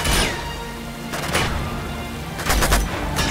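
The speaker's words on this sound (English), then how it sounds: "There's a shot." Gunshots in Uncharted 2: Among Thieves amid a firefight, with a few loud, sharp cracks spaced apart over steady combat din, near and prominent.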